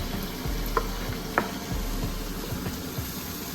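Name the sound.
garlic and ginger being roasted in a pan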